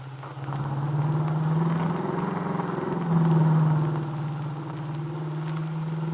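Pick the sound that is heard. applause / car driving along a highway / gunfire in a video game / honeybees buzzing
car driving along a highway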